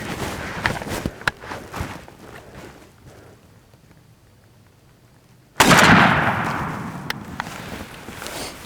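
A shotgun fires a Federal turkey hunting shell outdoors: one loud, close blast that rings out and fades slowly, preceded by quieter rustling and footsteps.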